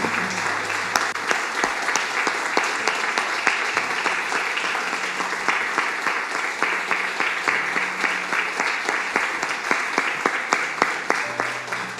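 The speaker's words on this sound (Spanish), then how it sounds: "Dele un aplauso al Señor" A church congregation applauds at the close of a prayer service, a full, sustained round of clapping with a steady rhythmic pulse that continues evenly for the whole stretch.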